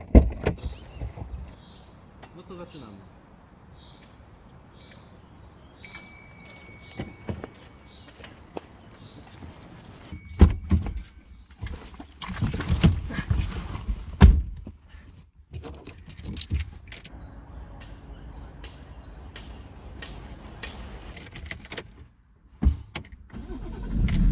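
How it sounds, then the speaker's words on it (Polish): A BMW E60 535d diesel car door thumps shut, followed by the engine cranking and starting, with scattered rustles, clicks and faint birdsong around the quiet cabin. "wsiadamy, i dopiero wiesz, odpalam wóz, ustawiam nawiew i ruszamy"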